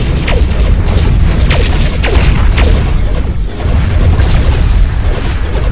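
A loud, rumbling blast from a destroyed enemy ship in the space sim game Starpoint Gemini 2, a dense, continuous boom that fills the whole stretch with crackling debris on top, close and heavy.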